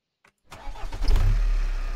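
A vehicle engine in the Recycling Center Simulator video game: a faint click, then the engine turns over and catches, settling into a rumbling run with a low, swelling drone as it pulls away.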